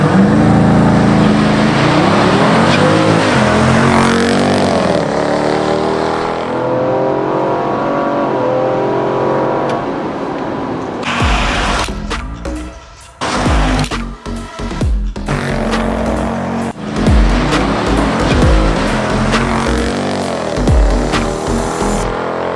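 A tuned Ford Explorer ST on an E50 ethanol tune drag races a stock Dodge Durango SRT, their engines loud and roaring through a long wide-open pull, then sharp revving bursts and gear changes with no talk.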